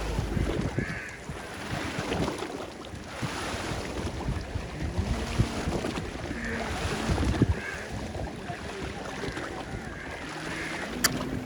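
Steady wind blows at a lakeside resort in Kumarakom at sunset. It makes a continuous rushing hiss with soft lapping water beneath and gentle swells and dips throughout.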